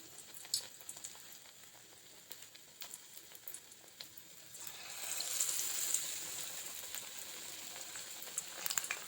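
Batter-dipped eggplant pakoras frying in oil in a pan, a soft crackling sizzle that grows louder and denser about halfway through, with scattered pops and spits.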